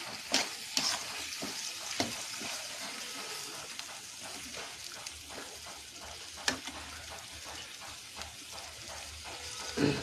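Fish curry sizzles steadily in a pan as chili powder goes in, with scattered clinks and scrapes from stirring over the continuous frying hiss; no one speaks.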